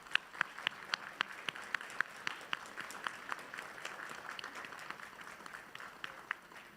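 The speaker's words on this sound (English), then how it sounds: "let's give them a huge round of applause" An audience at a community college STEM graduation ceremony applauds the graduates, a dense, steady patter of many hands clapping heard from a distance, fairly quiet and without a break.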